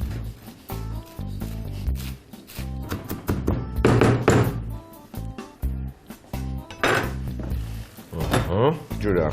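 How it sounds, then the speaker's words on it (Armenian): Parsley and coriander finely chopped with a knife on a board: a fast run of crisp, repeated taps and thunks, mixed with a louder tonal sound that swells and fades. "Մանր կտրատում ենք մաղադանոսը և համեմը"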